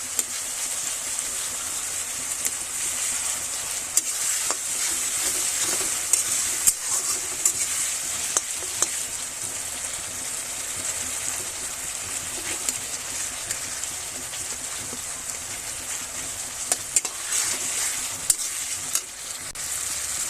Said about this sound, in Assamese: বিলাহী ভালকৈ ভাজি কেঁচা জলকীয়া দি দিছোঁ কেইটামান